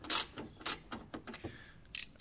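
A T30 Torx screw is loosened on a Peugeot 1007 sliding door unit, giving a few close, faint, separate ratcheting clicks and creaks with short gaps between them.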